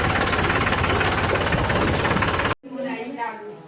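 A Honda Activa scooter engine runs with a steady, loud, slightly knocking drone that cuts off abruptly, followed by a voice speaking.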